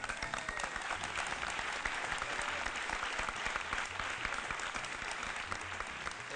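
A large audience at a cultural festival of troubadour music applauds loudly and continuously, a thick, even wash of clapping with faint crowd noise underneath and no distinct speech.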